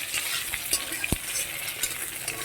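Tomatoes frying in a pan give a steady, close hiss of sizzling oil, broken by a few soft scrapes of stirring and one sharp utensil tap against the pan.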